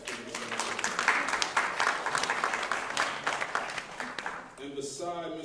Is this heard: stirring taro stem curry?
no